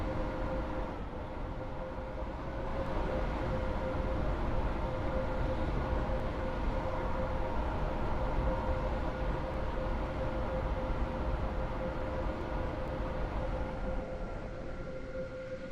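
Steady rumble of a train in motion from the Stepford County Railway video game, a constant low roar with a sustained hum running unbroken throughout.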